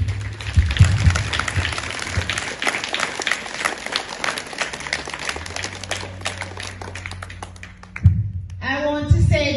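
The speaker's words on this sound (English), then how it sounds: "So give yourselves a big round of applause," A school audience breaks into sustained applause, dense clapping close and steady, fading near the end as a voice starts speaking.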